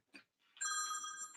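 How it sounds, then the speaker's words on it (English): A telephone rings during a live Friday freestyle stream, a short blip followed by a loud, steady electronic ring tone that holds nearby and clear, with no talk over it. "Oh, the phone."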